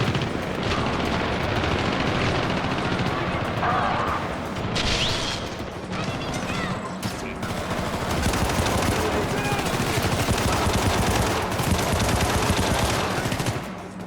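Sustained automatic gunfire in the 2012 video game Syndicate, dense and loud with rapid bursts rolling on almost continuously for the whole stretch, mixed with crashes and mechanical clatter.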